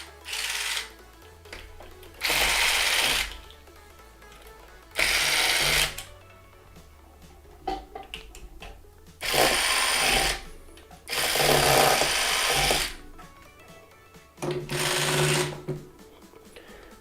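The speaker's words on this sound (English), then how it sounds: "So let me go ahead and remove the 4 screws located on the battery holder." A power screwdriver whirs in about six short bursts, each roughly a second long with pauses between, as four screws are removed from a hoverboard's battery holder, close and fairly loud against a quiet background.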